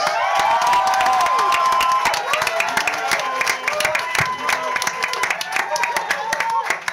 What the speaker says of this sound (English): would you please welcome a big round of applause for Patrick Dawson of the Greens